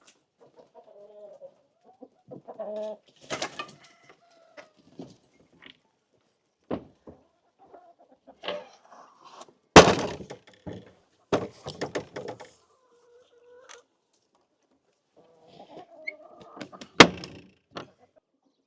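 Chickens and turkeys let out of a farmyard coop, with scattered clucks and calls at close range, a sharp door-like knock midway, and quiet stretches between bursts.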